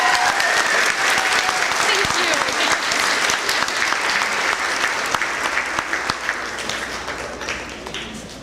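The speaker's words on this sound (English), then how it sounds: "So round of applause again for Mrs." Audience applause at an elementary school 5th grade promotion ceremony, a dense, loud round of clapping from a large crowd that slowly tapers off, with faint voices mixed in.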